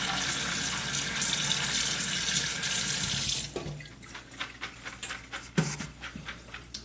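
Dried beans being rinsed under a running kitchen tap, a loud steady rush of water for a few seconds that stops abruptly, followed by scattered clicks, taps and light splashes of handling.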